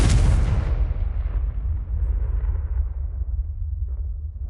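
A Confringo spell detonates in the video game Hogwarts Legacy with a loud, deep boom that hits at once and then rumbles and slowly fades over several seconds.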